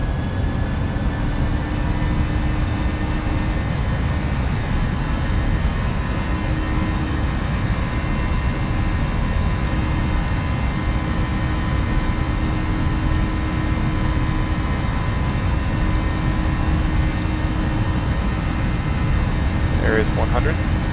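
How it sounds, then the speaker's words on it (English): Airliner jet engines at takeoff power, a steady loud broadband roar with a faint whine, continuous throughout, with cockpit voices calling out over it. "Take off power."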